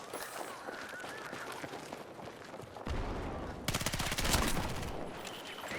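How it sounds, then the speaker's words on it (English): A shotgun blast and surrounding gunfire in the video game Battlefield 6, with scattered shots and movement early on, then a louder cluster of sharp, rapid blasts in the middle, heard at close range. "That was definitely a shotgun blast that I just ate."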